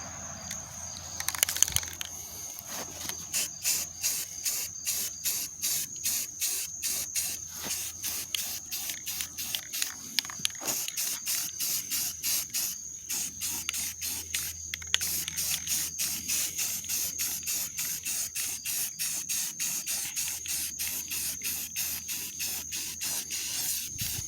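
A spray can lays a first coat of paint on a 1998 Holmes HAWF-2020N window fan during restoration, with rapid, rhythmic short hissing bursts over a steady hiss, close and continuous, no talking.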